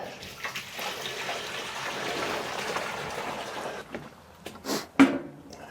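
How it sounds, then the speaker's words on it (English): Water gushing and splashing as it pours into a lawn sprayer tank, a sustained rushing flow that ends with a few louder sloshes and clunks. "Right, let's put the rest of the water in."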